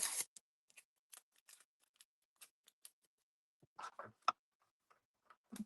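Scissors snipping tape, a sparse series of sharp close clicks and short cuts separated by silence, with a brief cluster of rustling snips near the end.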